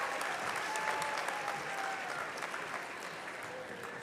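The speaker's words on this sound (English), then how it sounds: "Ladies and gentlemen, a big round of applause for the graduates from the Clinical Research Program." A convocation audience applauds health sciences graduates with sustained, dense clapping from many hands across the hall. The clapping holds steady, then tapers slightly toward the end.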